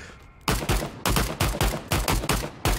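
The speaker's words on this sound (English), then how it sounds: "He's still shooting me even though I'm dead." Loud, close gunfire in the game Passed Out Prologue, a regular string of about seven heavy shots at a steady rhythm after a short quiet lead-in.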